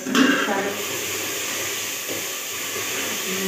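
Steady loud sizzling and hissing of peas frying in hot oil for tempering, continuous throughout with a brief clatter at the start.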